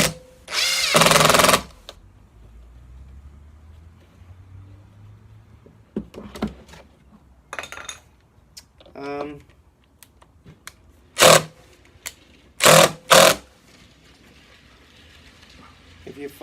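A power drill drives screws into a Muskoka chair being assembled outdoors, sounding in a few loud short bursts spread between quieter handling noises and stretches of talk.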